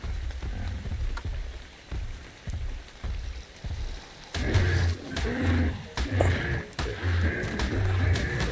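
Rain falls in the survival game Ark: Survival Evolved, a steady patter mixed with a low roaring creature and heavy thuds that grow louder and denser partway through.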